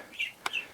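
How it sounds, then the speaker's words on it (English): A pair of short, thin chirps from chickens in an overly warm pallet-wood coop, close by, quiet and a little strained, with a soft click between them. "You can hear the birds chirping unhappily."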